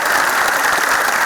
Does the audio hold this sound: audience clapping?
yes